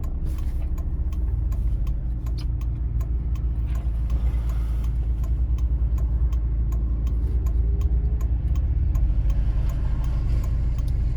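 Road traffic flows past an intersection in Cherkasy, a continuous low rumble of engines heard from inside a stationary car, with a steady ticking indicator running throughout.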